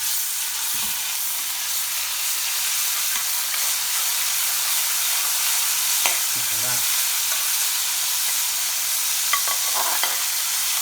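Ginger garlic paste frying in a pan with fresh minced lamb for murgh masala gives a loud, continuous close sizzle, with occasional stirring scrapes and clinks over the steady hiss and no voices.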